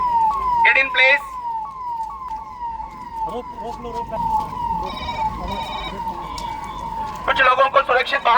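Ambulance siren during a disaster evacuation drill for tsunami and earthquake preparedness: a wailing siren sweeping up and down repeatedly, fairly near, with bursts of shouting voices and crowd noise around it.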